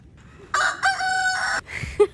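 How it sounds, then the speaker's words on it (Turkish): A rooster crows once in Bremen, Germany, loud and close, a long drawn-out call followed by a couple of short clucks. "Şaka gibi horoz sesi geldi."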